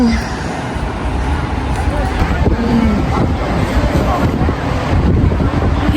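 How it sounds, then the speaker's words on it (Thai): Strong wind blows outdoors on a trip to Hanoi, roaring and buffeting the microphone in a steady, loud rush with faint water and boat noise beneath it. "ลมแรงมากเลยค่ะทุกคน"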